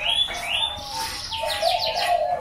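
Perkutut Bangkok zebra doves call at a breeding farm: a short run of soft, rhythmic coos mixed with higher chirps, moderately close over a faint background hiss.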